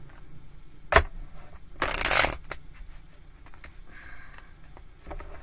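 Tarot cards are shuffled up close: a sharp tap, then a dense riffling burst of about half a second, followed by softer handling clicks in a quiet room.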